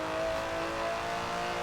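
Aston Martin DB11 with a 5.2-litre twin-turbo V12, driven in the racing game Forza Horizon 4, holding a steady, loud engine drone throughout with no talking.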